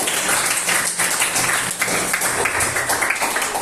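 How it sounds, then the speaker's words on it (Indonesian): Classroom applause from students after group presentations in a school lesson, a dense, steady patter of many hands clapping together for a few seconds. "Sekali lagi tepuk tangan dulu untuk kita semua"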